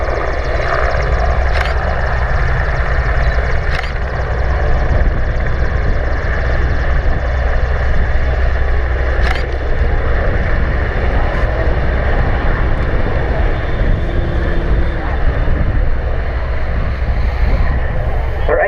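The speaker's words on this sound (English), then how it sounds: "It was a very, very large helicopter, wasn't it?" A large Merlin helicopter's rotors thrum steadily and loudly as it lands at Waddington, with a constant wash of wind-like noise throughout.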